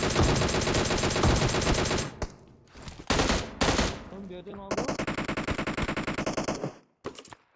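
Automatic rifle fire from an AKM or M416 in a shooter video game rips out in loud, close bursts, with short pauses and a final quick volley.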